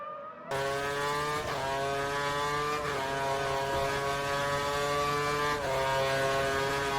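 Formula 1 car lapping the Nürburgring in a racing video game, a loud steady high engine whine with rising pitch sweeps as it accelerates through gears, brief dips at each shift, close and continuous with no talk.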